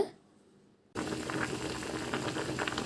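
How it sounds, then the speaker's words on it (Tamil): Cassava pieces boil in salted water in a pot, a steady close bubbling and rolling simmer that starts abruptly after a near-silent second and continues evenly. "தேவையான அளவு தண்ணீர் ஊற்றி கூடவே தேவையான அளவு உப்பு சேர்த்து வேக வச்சுக்கோங்க"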